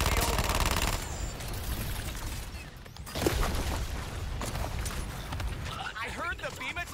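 A weapon fires in the Suicide Squad: Kill the Justice League video game, with rapid bursts of gunfire, clattering mechanical sounds and booms mixed in as voices talk over the action.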